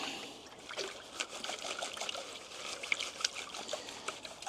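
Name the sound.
panning gold concentrate, water swirling in pan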